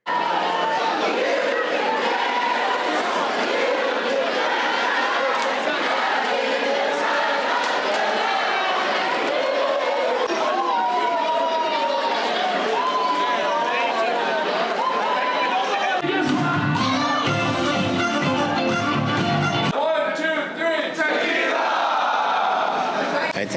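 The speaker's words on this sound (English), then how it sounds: "the crowd is super lively" A lively crowd parties aboard the Celebrity Beyond cruise ship, with dense shouting, cheering and chatter over loud party music and a steady roar throughout. A heavy bass beat briefly takes over near the end.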